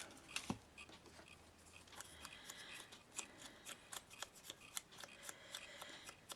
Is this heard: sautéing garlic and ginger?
no